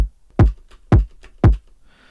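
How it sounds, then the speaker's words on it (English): Three punchy, evenly spaced hits of a Flutter Kick drum sample from a phonk remix, each a deep thump with a short tail, dry and alone, ending on faint hiss. "I have this kick sample that I made sound like this."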